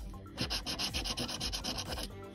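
A coin scrapes across an NJ Lottery Power 50X scratch-off ticket in a rapid series of short, rhythmic strokes. The scraping is close and steady, with no voices.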